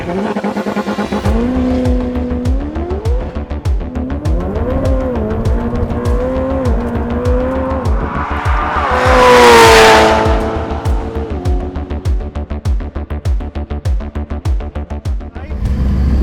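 Ferrari F8 Tributo accelerating hard down a quarter-mile strip, its engine note climbing loudly through several gear changes with brief dips between shifts and a whooshing surge midway, continuous and close throughout.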